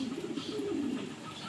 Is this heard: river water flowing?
no